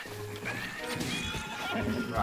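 A horse whinnies loudly in Breath of the Wild, with hoof clip-clops and game sounds mixed in and a voice talking over it.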